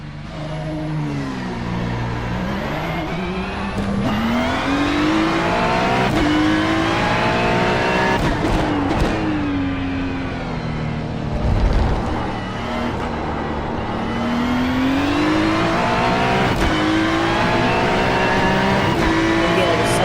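A GT3 race car engine in a sim racing game at Portland howls at full throttle, its pitch climbing and dropping through repeated gear changes, loud and steady throughout, with a voice talking over it at times.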